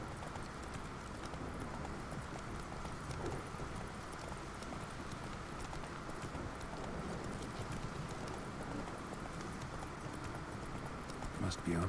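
Roach the horse gallops in The Witcher 3, hooves beating a steady, quick clip-clop that runs faint and continuous throughout.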